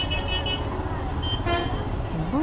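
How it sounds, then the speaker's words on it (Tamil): Heavy road traffic on a busy route toward a temple in Kanyakumari, with continuous engine rumble and short car horn toots cutting through, close and loud. "இவ்வளோ பங்கமாக டிராஃபிக்கு."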